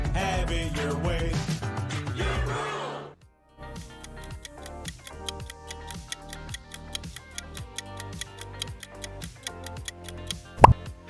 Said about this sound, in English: Burger King